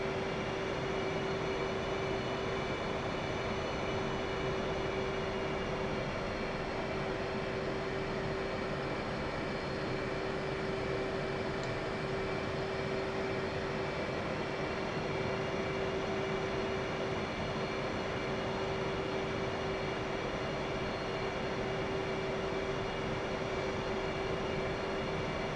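An aircraft taxis to the runway in a carrier-landing flight video game, giving a steady engine drone with a constant whine held at an even level throughout, and no voices.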